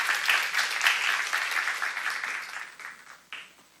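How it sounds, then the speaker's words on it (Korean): A church congregation at a seminar claps together, brisk dense applause that starts strong and gradually thins and fades over a few seconds, heard from a moderate distance. "박수 하세요"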